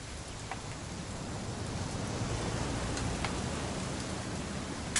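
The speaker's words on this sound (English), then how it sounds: "It's gonna rain the whole weekend," Steady rain from What Remains of Edith Finch, a dense, even hiss of falling water with soft low rumble underneath, constant throughout with no talking.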